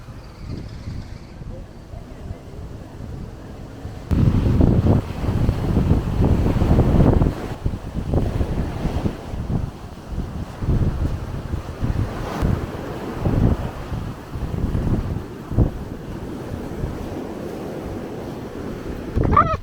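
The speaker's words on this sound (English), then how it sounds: "It's a bit windy today, but we're still gonna brave the wind" Strong gusty wind by the sea buffets the microphone with a heavy low roar, surf washing in the background and a voice now and then under the noise.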